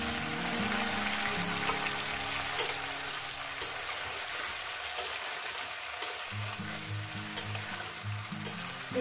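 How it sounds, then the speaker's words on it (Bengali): Broad beans and flat beans fry in a wok for a village-style gota chorchori, a steady close sizzle with occasional sharp clicks of a spatula stirring against the pan, no voices. "এই ডিম কড়াই আর সিমটাকে দিয়ে আরও আমি ভাজতে থাকি আরও 4-5 মিনিট।"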